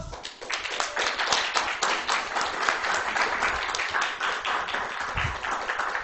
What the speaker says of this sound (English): I think we have a round of applause in us.